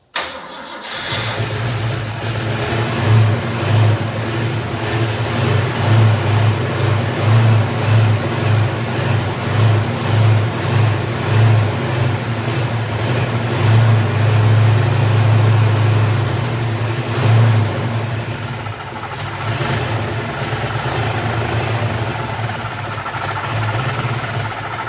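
Car engine with a faulty smog pump starts and settles into a rough, pulsing idle with repeated revs swelling and falling over about twenty seconds, loud and close.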